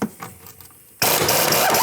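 Pneumatic air impact wrench loosening the front strut nut on a 2001-2007 Volvo V70 XC. After a second of quiet shop noise, a loud, continuous close-up hammering burst starts abruptly and keeps going.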